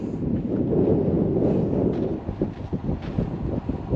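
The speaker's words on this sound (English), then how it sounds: "Sorry for the wind, it's very windy today." Strong wind at a Joshua Tree National Park campground buffets the microphone with a heavy, low rumbling roar that swells and dips, easing into choppier gusts toward the end.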